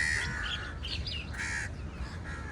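Harsh cawing bird calls repeated in short bursts, fairly close, over a faint background hum.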